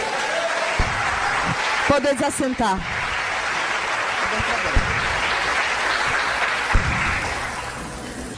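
A church congregation applauding, a broad sustained wash of clapping and crowd noise lasting several seconds, with a voice speaking briefly over it near the start.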